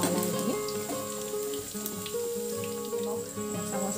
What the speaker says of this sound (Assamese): এয়া পনীখিনি মই ৰঙচুৱাকৈ ভাজি লওঁ